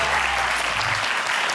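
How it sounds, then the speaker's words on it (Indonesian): Applause from a game-show audience for a contestant named Sarsar: brisk, dense clapping, fairly close and loud, sustained throughout the short stretch. "Boleh tepuk tangan untuk Sarsar."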